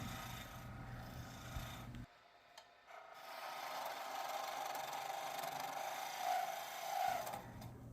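A skew chisel roughs down a wooden ladle blank on a lathe, a continuous rasping, scraping cut with brief pauses and shifts in pitch as the tool bites, heard close with no talk.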